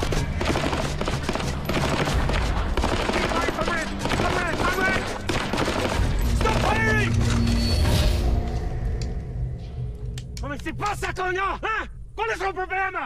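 Rifle squad volleys from a film execution scene, a sustained barrage of overlapping gunfire with mechanical clatter, loud and continuous, thinning into sparser shots and shouting voices near the end.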